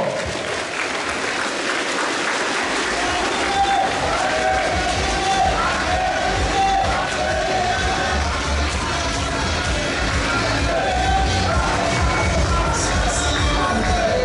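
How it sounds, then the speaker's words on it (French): A large crowd at a corporate success-day gathering in Burkina Faso applauds loudly and steadily after a group photo, dense sustained clapping with some shouts and cheers rising through it, close and full throughout. "on les applaudit bien fort"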